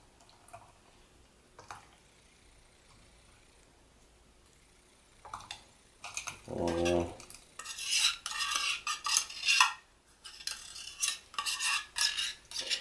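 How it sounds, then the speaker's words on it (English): Canned chopped clams go into a pot for clam chowder: a few light clinks of the can, then a short wet glugging pour, followed by busy metallic clattering and scraping close by. "now I'm just going to put this can of clams in here"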